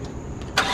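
A Nissan Skyline, back after a crash, starts up with a short burst of ignition and a quick catch, loud and near, after a low steady background.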